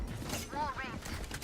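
Weapon reload in the Valorant shooter game, a brief close mechanical clack and creak of the magazine being swapped, heard alone.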